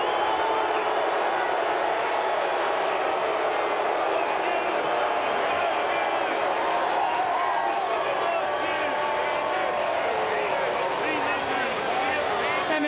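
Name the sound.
crowd at Bristol race track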